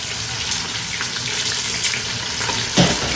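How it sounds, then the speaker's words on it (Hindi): Mutton pieces and cumin fry in a pot for haleem, giving a steady, close hiss of sizzling oil throughout with a brief louder scrape or stir near the end. "अब गोश्त फ्राई करेंगे जब तक इसका कलर चेंज नहीं हो जाता"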